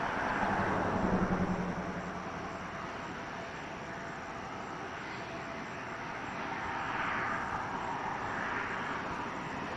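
A Dominican airliner rolls for takeoff at Toronto Pearson on a Friday night, its engines a broad, distant roar that swells and eases as it accelerates down the runway, steady and without talk.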